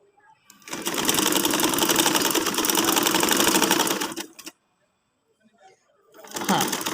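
Sewing machine running steadily while stitching a trouser seam, a dense continuous mechanical whir for about four seconds, then a pause and a fresh burst of stitching at the end.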